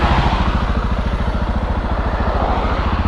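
Close, loud engine of a slightly modified Suzuki DR650 motorcycle idling with a steady, even putter that holds a regular rhythm throughout.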